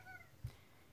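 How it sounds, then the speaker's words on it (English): A tuxedo cat gives a single short meow indoors, faint and close, with quiet room noise around it. "And there's the kitty."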